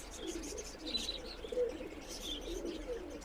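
Indian and Pakistani pigeons kept for sale coo softly in low, repeated throaty calls, with a few higher chirps mixed in, fairly close but quiet, without any speech.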